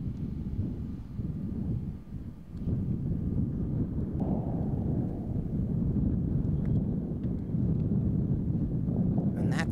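Gusty wind buffeting the microphone on an outdoor disc golf course during a tournament, a constant low roar with a brief dip partway through and faint scattered clicks.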